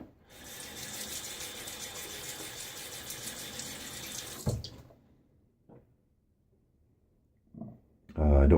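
A bathroom tap runs steadily for about four seconds as a Gillette Black Beauty safety razor is rinsed between shaving passes, close and hissing. It cuts off with a clunk and a near-silent pause before more handling noise.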